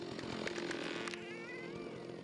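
A chainsaw engine buzzes loudly and continuously, with rhythmic pulsing early on before settling into a steady wavering whine, logging in the Pacific Northwest forests, with no one speaking.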